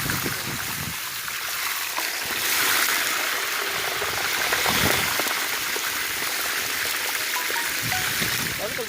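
Heavy rain pouring outdoors in a backyard on a cold, windy afternoon, a dense steady hiss with scattered drops striking surfaces close by, while people talk now and then.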